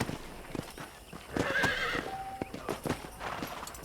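A horse in the Red Dead Redemption video game whinnies loudly over the steady clip-clop of its hooves, the neigh rising briefly out of the mix while the hoofbeats continue around it.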